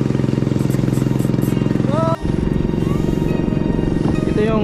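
A motorcycle engine drones loud and close on a ride around Taal Volcano, holding a steady rising and falling pitch with a brief dropout partway through.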